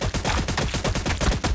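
Tank main gun sound effect in a Warhammer 40,000 tabletop battle between Astra Militarum and Orks, heard as a rapid run of about a dozen sharp, loud, evenly spaced blasts with no talk.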